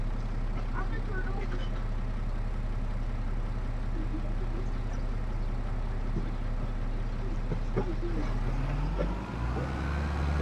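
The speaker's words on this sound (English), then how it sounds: "And let's go ahead and get this tractor parked" A 400-horsepower farm tractor's engine drones steadily at close range with a constant low rumble, and a voice talks over it.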